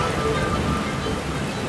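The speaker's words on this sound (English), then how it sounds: "Starting to make it out of the storm." Steady rain from a storm at sea, heard from a sailboat, hisses across the whole clip with a dense broadband wash and low rumble, constant and fairly loud, with a voice faintly underneath.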